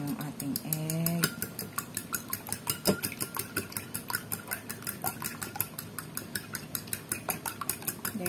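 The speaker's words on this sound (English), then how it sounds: "So babatiin lang natin yung ating egg." Eggs beaten briskly in a bowl for a Filipino sardine omelette, a steady fast rhythm of utensil clicks against the bowl throughout, with a brief voice near the start.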